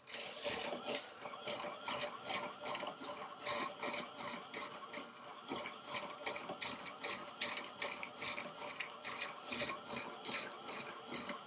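Electric yarn ball winder from Amazon winding yarn, giving a steady mechanical whir with rapid ratcheting clicks that run without a break at close range.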